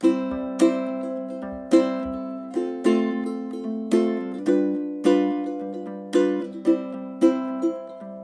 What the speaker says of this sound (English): on a low G, if I do that same sort of chord progression, it sounds like this.